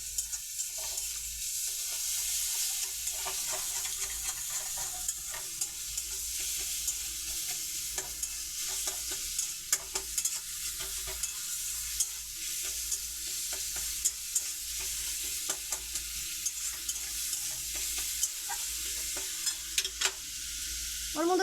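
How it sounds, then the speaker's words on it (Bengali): Chicken keema stirred into ginger and garlic in a pan, a continuous loud sizzle with steady scraping and stirring strokes throughout, close up and without talk. "ওই চিকেন কিমাটা দিয়ে দেবো আদা রসুনের মধ্যে। দিয়ে এটাকে নাড়াচাড়া করব।"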